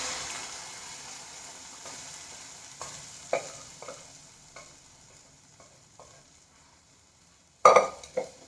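Cooked moong and toor dal poured into a sizzling pan for dal tadka, a low steady hiss with scattered soft knocks and stirring scrapes, then a sharper burst of clatter near the end.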